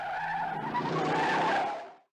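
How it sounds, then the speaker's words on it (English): Tyres screech loudly in a sustained skid during a car chase from the 1978 film The Driver, a continuous wail lasting about two seconds before cutting off. "effectively producing the sounds of screeching tyres, police sirens and car engines"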